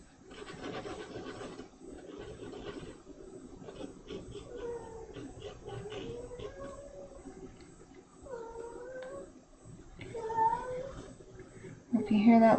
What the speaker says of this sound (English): He's meowing at the window.